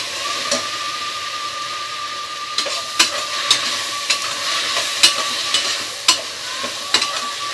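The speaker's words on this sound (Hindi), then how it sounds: "अब इन सब को अच्छी तरह से हम मिक्स कर लेंगे।" Tomatoes and spices with turmeric are stirred in a hot pan for a home-style Indian dish: a continuous frying sizzle broken by repeated sharp scrapes and knocks of a spoon against the pan, close and loud, with no talk.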